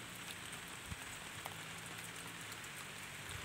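Steady rain falling over a rice field, a dense even hiss with occasional distinct drops, faint and continuous with no voices.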